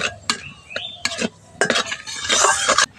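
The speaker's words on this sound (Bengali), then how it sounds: "অল্প দিচ্ছি একটু গোটা জিরে ফোড়ন। ফোড়নটা একটু ভালো করে ভেজে নিচ্ছি।" Whole cumin seeds fry in oil for a tempering, a spoon clinking and scraping against the pan in irregular strokes while a light sizzle rises and swells near the end.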